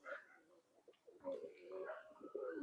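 A native Naktana pigeon, an old Khulna breed, coos in soft low bursts, partly masked by someone talking close by throughout.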